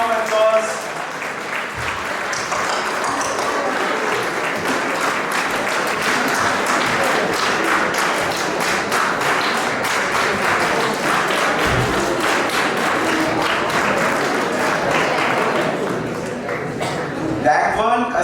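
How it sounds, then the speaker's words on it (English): A large audience at a college Model UN conference result ceremony breaks into sustained, loud applause that fills the hall steadily for about eighteen seconds, with scattered cheers and voices mixed in before it tapers at the end. "Please give a big round of applause."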